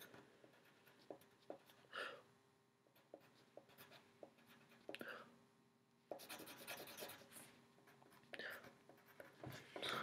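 Math terms are written by hand in quick bursts of scratchy pen strokes, close and soft, with small taps between strokes and faint murmuring speech underneath.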